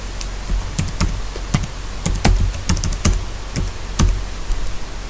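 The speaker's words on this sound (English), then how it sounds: "This is where you would type auto unattend." Someone types on a computer keyboard, a close series of crisp, uneven key taps over a quiet background.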